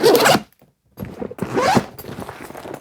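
A bag zipper is pulled open in two quick rasping strokes separated by a short pause, close and clear.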